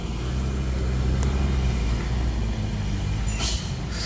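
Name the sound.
car driving down a mountain road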